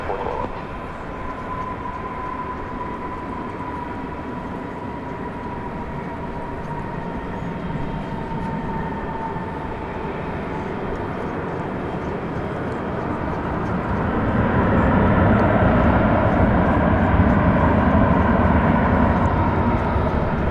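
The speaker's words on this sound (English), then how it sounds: "The plane coming in now from Los Angeles. Flight 2024 on Airbus A321." An Airbus A321 on American Airlines flight 2024 arrives from Los Angeles at DFW Airport at night with a broad jet roar. A steady whine sits on top, and the roar swells louder toward the end.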